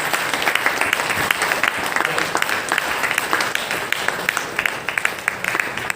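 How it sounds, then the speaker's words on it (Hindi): A seminar crowd applauds as royalty achievers are called to the stage, with steady, close clapping and some sharp individual claps throughout. "तालियां जोरदार बजनी चाहिए।"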